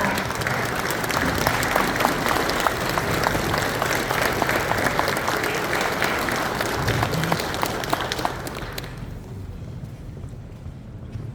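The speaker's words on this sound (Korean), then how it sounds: "큰 박수 부탁드리겠습니다." An audience applauds at a community town-hall meeting with the mayor in Nampyeong-eup, Naju, a steady dense wash of clapping from a large crowd that thins and fades toward the end.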